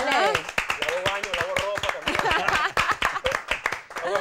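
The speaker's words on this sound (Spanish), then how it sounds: "aplaudimos" Studio audience clapping on a Saturday night Spanish-language television show, a burst of sharp, quick hand claps mixed with a host talking over it, moderately loud and fairly close.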